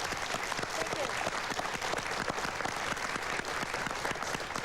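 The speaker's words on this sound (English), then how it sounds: "Big round of applause, everyone" A studio audience gives a big round of applause for a Kiwi music legend on a morning TV show, dense, even clapping that is loud and sustained throughout.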